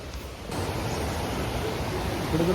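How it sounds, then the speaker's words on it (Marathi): Rushing water at Conwy Falls in Wales makes a dense, steady roar that fills the whole moment, loud and unbroken, with no talking. "हा वॉटरफॉल खूप चांगला असेल, कारण त्याचा पाण्याचा फ्लो, आवाज वगैरे खूप जास्त आहे"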